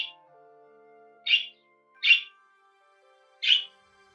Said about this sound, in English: The birds say both hello and goodbye.